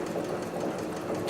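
A cylinder-bed sewing machine stitches through four layers of chrome-tanned upholstery leather, a steady close mechanical whirring and rapid ticking that runs unbroken and alone throughout.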